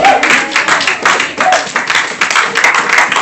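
A church congregation applauds and acclaims the Lord, with steady, loud clapping mixed with cheering voices that swells and dips in waves.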